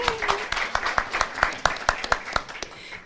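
A smattering of hand claps, a dozen or so sharp irregular claps from a small group, briefly and close by.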